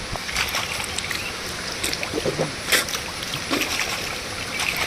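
Hands being rinsed under running water outdoors on a cocoa farm in Kerala, giving irregular splashes and trickles at close range with no talk over it.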